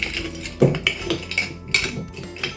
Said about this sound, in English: Give it a good mix and incorporating all the sugar and the sloes.